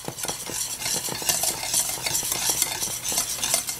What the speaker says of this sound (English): just stir this until it has thickened